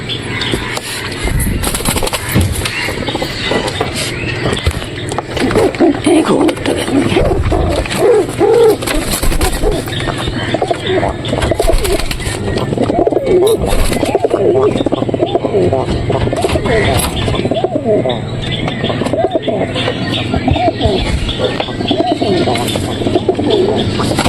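Pigeons cooing in a loft after being let out, soft repeated throaty coos close by, mixed with wing flutters and shuffling, while a person talks over them.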